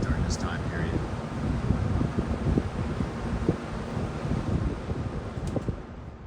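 A mid-80s Eastern Electric box fan and a Lakewood S-223 box fan blowing air, producing a steady, loud rushing whoosh with fluttering low rumble, continuous and close to the microphone.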